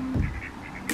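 Ducks quacking, a short series of nasal quacks over steady outdoor background noise, close and moderately loud, lasting only about a second.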